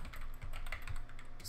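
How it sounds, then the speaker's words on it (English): Keystrokes patter steadily on a computer keyboard while a network name and IP address are entered in Packet Tracer, a rapid run of light, close clicks with no talking. "And next, I will type network"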